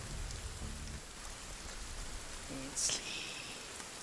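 Steady rain falls in the survival video game Sons of the Forest, an even hiss of drops on surfaces with a brief sharper burst near the end and a short spoken word partway through.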